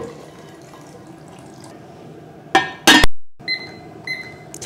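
Water drained from a cooking pot of mushrooms into a sink, with a brief loud gush and splash after dripping and trickling, close by, without talk.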